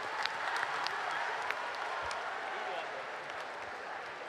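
An audience at a school quiz event gives a round of applause, a dense patter of claps with occasional sharper hits, heard at moderate, fairly faint distance.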